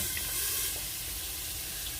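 Water, about two tablespoons, hits a hot pan with steak and sets off a soft, steady hiss and sizzle that fades slightly as it settles, with no voices.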